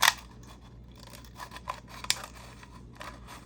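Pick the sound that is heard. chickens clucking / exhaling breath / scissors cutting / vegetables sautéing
scissors cutting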